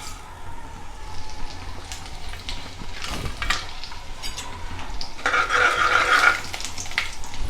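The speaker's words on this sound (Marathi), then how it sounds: "तेल आणि तूप गरम झालं आहे त्यामध्ये आपण सर्वात आधी मेथी दाणा आणि जिरा टाकून घेऊ" Fenugreek seeds and cumin sizzle in hot oil and ghee while tempering Gujarati kadhi. A steady close crackle runs throughout, swelling into a louder burst toward the end, with occasional light utensil clinks and no talking.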